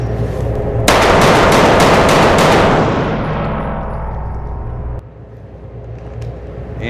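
A rapid string of about six pistol shots fired right after a draw from the holster, loud and close, with each crack blending into a ringing tail that fades over several seconds.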